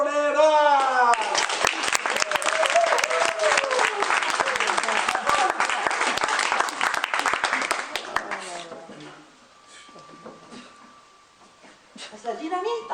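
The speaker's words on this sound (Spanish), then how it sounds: "un gran aplauso para Las" Loud applause and cheering from a fiesta audience welcoming a singing group, dense clapping for about eight seconds, then fading to scattered claps and quiet murmur before voices return at the end.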